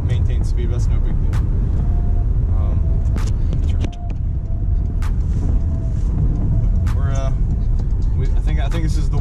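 A 2017 Ford Explorer drives with its engine running steadily under road and cabin noise, the drone rising and settling slightly as the transmission shifts gears, with a person talking over it.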